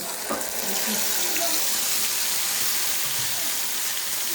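Spice paste of ground cumin, chili powder, turmeric and salt is poured into a pan for egg curry, giving a soft continuous wet pouring and light sizzling hiss, fairly faint and steady throughout.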